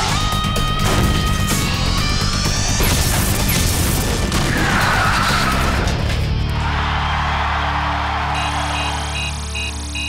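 A cartoon fire attack blast called Dark Glow Fire erupts loud and continuous, a dense roaring, crashing burst with a sweeping whoosh that trails into a bright ringing shimmer.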